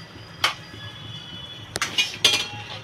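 A lid goes onto a cooking pot while a home-style Bengali egg curry with potato and eggplant cooks, giving several sharp metallic clinks and clatters, one early and a cluster toward the end, over quiet background.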